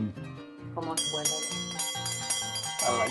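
A school bell rung for recess at a chapel school in Isla Pa'u, Ybycuí, Paraguay, struck repeatedly in a steady ringing pattern with resonant tones, heard close and fairly loud amid background voices.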